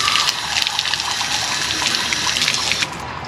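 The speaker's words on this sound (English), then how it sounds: "I'm just gonna turn on the faucet for a minute." Tap water runs steadily from a faucet into a sink outdoors, a continuous close, fairly loud hiss and splash that holds even for about three seconds, then drops slightly in level near the end.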